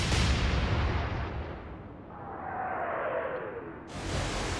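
Battleship guns fire in the naval game Atlantic Fleet: a heavy opening boom decays into rumble, a rising whoosh and long descending whistle of shells follow, and a final impact blast lands at the close, all without speech.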